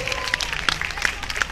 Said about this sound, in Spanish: Fuerte el aplauso para el equipo de Alberto, el equipo rojo!